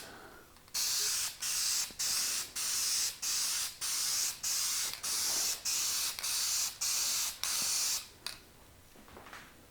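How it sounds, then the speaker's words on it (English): Spray paint hissing onto a CNC-carved wooden photo panel in a steady run of about a dozen short bursts, each roughly half a second with brief gaps, close and loud, ending in a couple of faint clicks. "I like to spray it in 2 directions."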